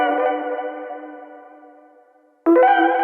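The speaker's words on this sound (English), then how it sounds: "Also in the samples you have the echo delay mode." A sustained synth-like tone fades away with a trailing echo delay applied to a sample in FL Studio, then the sound restarts abruptly, loud and bright, with repeating delay tails.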